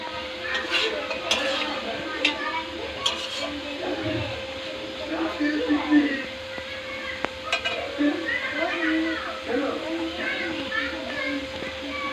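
Mutton sizzles softly in a pan while a utensil stirs and scrapes against the metal in intermittent strokes, with a voice talking over the cooking.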